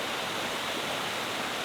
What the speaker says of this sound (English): You've got a nice little waterfall,